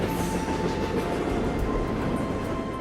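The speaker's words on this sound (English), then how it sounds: "I just have fallen completely in love with the sound of those trains." A train rolls past on a railway line through a small Georgia town outside Atlanta, a steady loud rumble and rushing roar with a faint high whine, close by and continuous with no voices.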